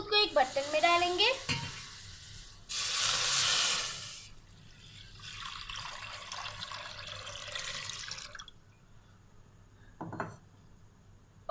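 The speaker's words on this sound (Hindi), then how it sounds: "सबसे पहले हम दूध को एक बर्तन में डालेंगे।" Milk is poured into a cooking pot, a close, steady splashing pour that starts and stops in bursts, with clinks and handling noises in between and no speech.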